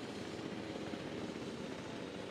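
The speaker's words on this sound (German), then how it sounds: "dieser Helikopter. Helikopter, du nervst." A helicopter in the video game Jurassic World Evolution 2 drones overhead with a steady, loud rotor and engine hum, continuous and close.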